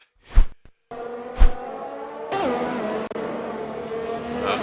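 Race cars at the start of a sim racing game at Hungary roar close and loud, engines revving and droning steadily with a rising pitch, no voices over them.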